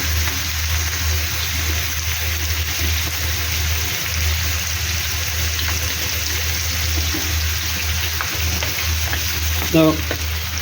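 Carrots sizzle in oil with garlic and onion, a steady close frying hiss with occasional stirring scrapes and a brief clatter near the end.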